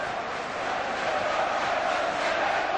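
A football crowd at a Wimbledon versus Aston Villa match chants together in a dense, steady roar, distant and continuous throughout.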